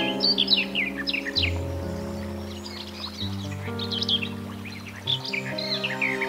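A cartoon bird chirps in quick bright bursts over an orchestral score, with repeated high tweets spread across the passage.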